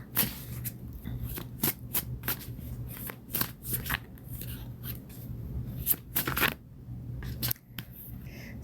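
Tarot cards are shuffled by hand in a quiet room, soft riffling and slapping bursts in an irregular rhythm, close and moderately quiet, with no talking.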